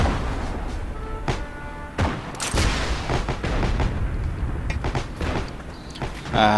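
Bazooka shots and explosions crack and thump in the online shooter Heroes and Generals, several sharp booms mixed with mechanical clanks and rattles of gear amid continuous battlefield noise.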